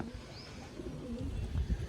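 Pigeons coo softly with low, murmuring calls amid a busy outdoor backdrop of rustling and low rumble, the cooing growing a little stronger toward the end.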